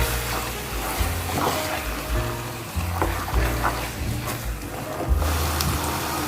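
Eggplant sauce with a seasoning cube stirred in a pot, a steady sizzling, watery bubbling bed with soft scraping strokes of the spoon recurring roughly every second, close and moderately loud.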